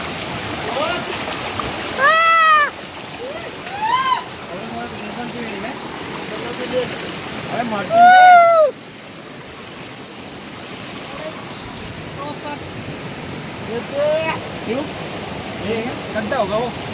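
Waterfall water rushes in a steady, broad wash while someone wades upstream through it at Malsai waterfall near Roha, with a few brief whistle-like chirps rising over the constant flow.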